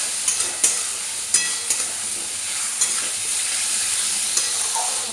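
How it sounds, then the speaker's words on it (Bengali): Fried potatoes stirred into spice paste in a pan for a crab curry, with a steady broadband sizzle and occasional sharp scraping clicks of a spatula against the pan, no talking. "এবার দিয়ে দেবো ভেজে রাখা আলুগুলো, মশলার সাথে কষে নিতে হবে।"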